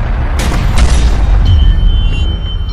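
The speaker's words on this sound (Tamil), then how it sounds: "காதை கிழிக்கிற துப்பாக்கி சத்தம்" Ear-splitting gunfire at a ruined house at dusk during a militant firefight: loud, close booming blasts rolling together in a continuous heavy barrage, with a few sharper cracks and a thin ringing tone at the end.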